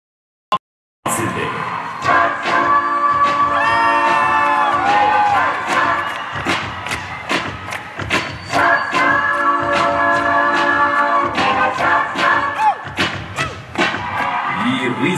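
Large crowd at the Gemini Awards for Chiranjeevi shouting, whistling and cheering loudly, a dense roar starting abruptly after a brief thump, with rhythmic claps or thuds and shrill whoops throughout.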